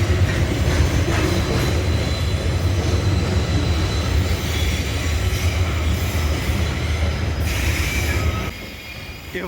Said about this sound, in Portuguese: o trem foi passar em cima de nós